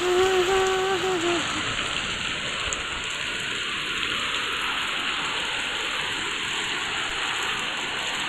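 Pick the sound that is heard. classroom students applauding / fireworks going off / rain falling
rain falling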